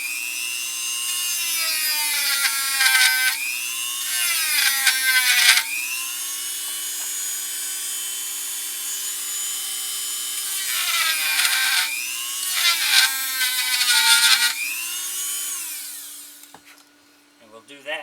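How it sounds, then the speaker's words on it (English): A Dremel rotary tool grinds into carved wood for a ventriloquist figure, a high steady whine that dips and rises as the bit bites in bursts, then winds down at the end. "We'll take our Dremel here."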